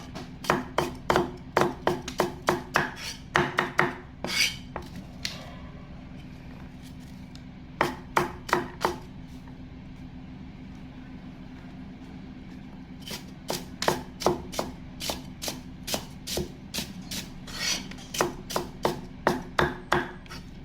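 Young fingerroot (krachai) being sliced with a knife on a cutting board outdoors, a fast run of sharp, close knife taps in bursts with short pauses, no voices.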